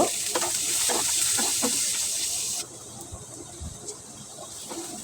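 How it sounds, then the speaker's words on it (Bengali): Chopped onions fry in oil in a pan, giving a continuous close sizzle and hiss that drops to a quieter simmer halfway through, with faint clinks and no voices. "প্যানে আরেকটু তেল দিয়ে আমি পেঁয়াজ কুচিগুলি ছেড়ে দিলাম পেঁয়াজ কুচিগুলি আমি নেড়ে ছেড়ে ভেজে নিব"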